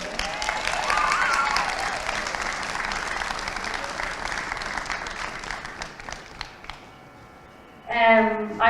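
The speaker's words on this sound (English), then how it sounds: "So a round of applause for Derrylaughan." Applause and cheering from a crowd at the Derrylaughan v Knockananna All-Ireland Junior B club championship final, loud and sustained, tapering off near the end before a brief voice.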